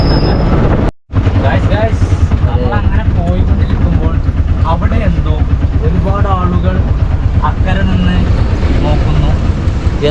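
A train rumbles past loudly and steadily, with people talking over the continuous roar.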